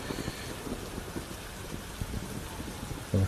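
Rain falls steadily as a sound effect in a scene, a constant broadband hiss with soft patter throughout and a brief louder bump at the end.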